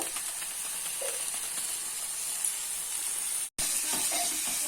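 Masala spices sautéing in a pan for Bengali-style mushroom curry give a steady, close, bright sizzle with a brief cut-out near the end before the frying hiss resumes.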